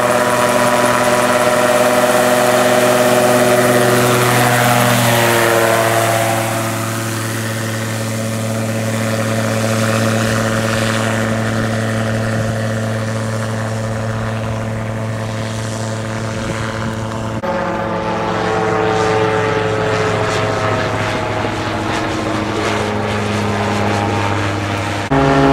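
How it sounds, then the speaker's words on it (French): The engine of an Eole light aircraft roars at full throttle for takeoff, a loud sustained droning hum whose pitch shifts as the plane accelerates and climbs away. "L'appareil décolle très très vite."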